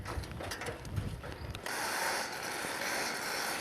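A vacuum pump draining a river lock at a barrage during drought works with a clanking, ratcheting mechanical rattle that gives way to a steady, broad mechanical roar, heard outdoors at moderate distance without speech.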